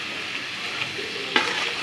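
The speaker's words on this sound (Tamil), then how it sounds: "வெங்காயம் வதக்கணும் நல்லா" Onions sizzle and crackle steadily in hot oil, with a soft stirring scrape now and then.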